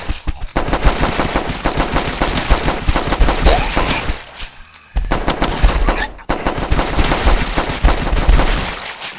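Rapid automatic gunfire from a co-op shooter video game rattles almost nonstop, loud and close, with a brief lull midway before bursts resume.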